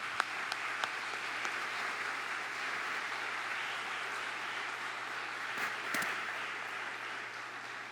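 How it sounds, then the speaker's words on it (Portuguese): Church congregation applause welcoming a couple to the front during a Christmas service, a dense sustained wash of clapping that holds steady for several seconds, with a few sharp louder claps standing out. "Então nós queríamos convidar à frente esse casal e recebê-los com uma salva de palmas."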